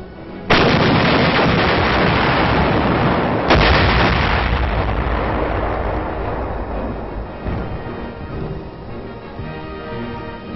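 Heavy artillery guns fire in a wartime setting, two big booming blasts a few seconds apart, each rolling into a long rumbling decay, loud and close with no talk over it.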